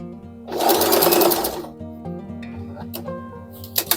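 A sewing machine in straight-stitch mode mends a pair of jeans, its motor whirring loudly in a dense burst before easing into lighter stitching with a few sharp clicks, close by and with no voices.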